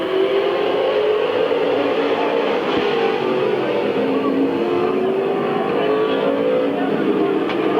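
Stock cars race around a short oval speedway, a steady loud roar of several engines blending together without a break, with announcer-style talk running over it.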